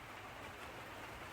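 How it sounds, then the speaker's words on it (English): Steady rain falls outside, a dense, even hiss that is faint and continuous with no talking, heard during preparation of a first-generation Austin Cooper S Mini for wet weather. "It's raining right now."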